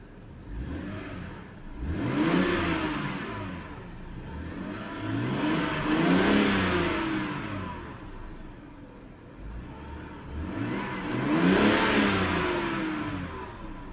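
A 2006 BMW 325i engine revs three times in succession, each time rising into a smooth, rich swell and then dropping back to a steady idle, heard alone, close and clear.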